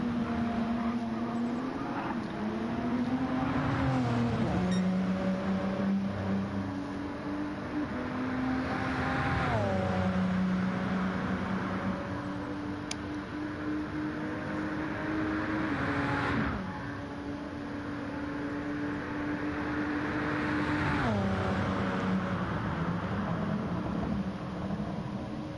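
Race car engine in a Le Mans sim racing game, screaming down the Mulsanne straight toward the Daytona chicane: a steady high-pitched whine rising through the gears, with sharp upshifts every few seconds, close and continuous with no talk.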